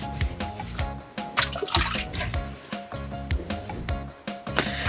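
Water splashes and drips while a cloth wipes down the inside of a dirty oven, rinsing off cleaning chemical in close, irregular wet swishes and dribbles.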